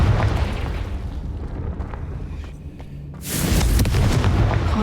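A Confringo spell explosion in Hogwarts Legacy, a heavy rumbling blast that decays into a low roar, then a second loud burst of crackling debris erupts and sustains to the end.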